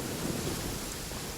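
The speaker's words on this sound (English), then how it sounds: "Man, did it really have to start raining?" Steady rain with a low rumble of thunder in the video game Genshin Impact, around Liyue Harbor. A dense, even wash of rainfall with a soft rolling undertone, faint and continuous, with no voices.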